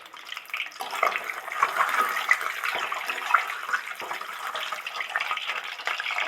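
Duck egg frying in a pan, a soft, continuous crackling sizzle with small pops, moderately quiet and steady throughout.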